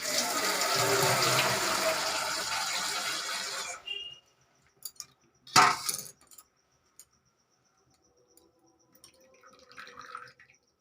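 Fruit being rinsed by hand in a bowl of water for a vegetarian potato payesh recipe: a steady swish and slosh of water for about four seconds, then sparse drips, a clink against the bowl and quiet handling sounds.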